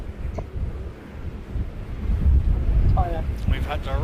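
Strong wind buffets an outdoor microphone at Christchurch Airport, a loud rumbling roar that swells midway, with a voice briefly speaking over it toward the end.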